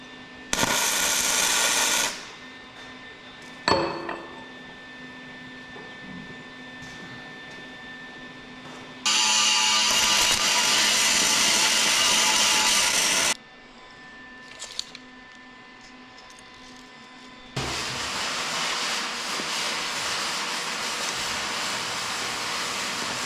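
Power cutting of metal corners on a John Deere 450 track loader, several long loud steady grinding runs separated by short pauses with clanks, close and continuous, no talk.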